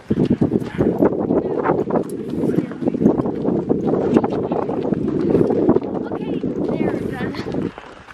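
Rapid hoofbeats of a horse running in snow, close by and steady, with wind rumbling on the microphone and voices over the top.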